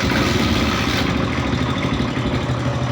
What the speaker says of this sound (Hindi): अब मैं बाइक को स्टार्ट कर लेता हूँ।